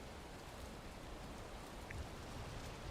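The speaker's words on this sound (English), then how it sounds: "Oh, now it's raining in the ocean." Rain falls over the open ocean in the video game Valheim, a soft, steady wash of hiss that stays even and quiet throughout, with no voices.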